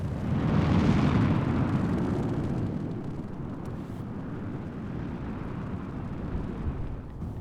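A ship blown apart in the space game Star Citizen, a deep rumbling blast that swells loudly in the first second and then settles into a long, dense roar that fades slowly.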